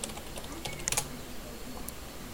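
Keystrokes on a computer keyboard while entering a search in an Unreal Engine UDK editor, a brief cluster of soft clicks near the middle over a steady low hiss, fairly quiet and close.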